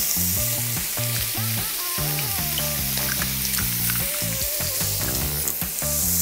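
Bacon fries in a pan with a steady, close sizzle that runs throughout under prominent background music.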